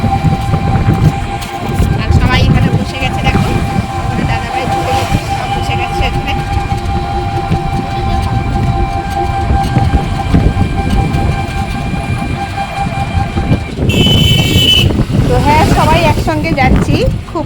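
A train rumbles past at Balichak station with a steady mechanical drone and whine while people talk nearby; a brief high electronic tone sounds near the end.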